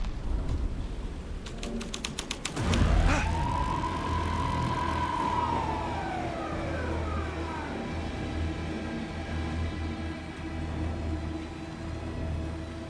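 Police car siren in the video game Alan Wake 2, a single rising and falling wail sweeping up then fading, preceded by a rapid clicking burst and a loud thump, heard alone against a low ambient hum.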